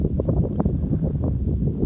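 Steady low rumbling wind buffeting the microphone in a harvest field, continuous and fairly loud, with no voices.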